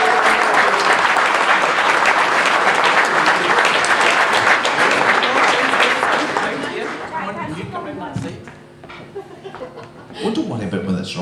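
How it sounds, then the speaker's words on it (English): Loud, dense applause from wedding ceremony guests as the couple comes forward with the rings, sustained clapping with chuckles and chatter that fades after several seconds into scattered voices and movement. "Wee round of applause, come on."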